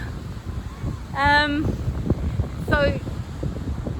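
Wind blowing outdoors, buffeting the microphone in rough, uneven gusts under a woman's speech.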